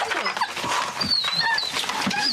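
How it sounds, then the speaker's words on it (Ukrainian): A frightened dog in Ukraine, stressed after nighttime explosions near an apartment block, whimpers continuously: thin, high whines come and go over a steady rustling background. "Від пережитого вночі стресу тварина відмовляється їсти та постійно скавчить."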